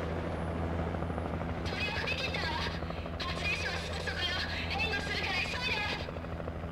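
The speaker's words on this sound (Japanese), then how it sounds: "お、ヘリだ。" A helicopter in the video game Alan Wake whirs with a steady, droning rotor hum throughout, while someone talks in Japanese over it.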